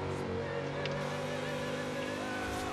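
A Ford Escort RS Cosworth converted to a 6-litre V8 of roughly 700 horsepower, driven in Forza Horizon 2 on Xbox One, holds a steady, loud droning engine tone with unbroken harmonics, while a voice talks faintly at times.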